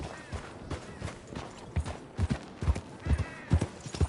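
Hooves of a horse galloping in Red Dead Redemption 2 thud in an uneven, driving rhythm that grows louder and heavier toward the end, with no voices over them.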